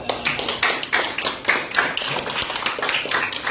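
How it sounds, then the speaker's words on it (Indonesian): A group claps hands in a steady, rhythmic beat at a teacher-training session, each clap sharp and close, sounding continuously with no talk. "Oke, tepuk tangan."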